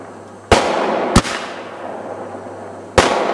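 Fireworks going off outdoors in three sharp, loud bangs with long echoing tails that roll away between blasts.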